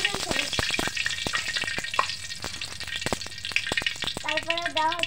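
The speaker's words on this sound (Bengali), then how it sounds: "গাইস এখন চুলাতে তেলের কড়া বসিয়ে দেওয়া হচ্ছে, আর এখন তেল দেওয়া হচ্ছে।" Oil heating in a wok on a village stove crackles and sizzles continuously, with sharp spits and pops throughout and a brief clattering near the end.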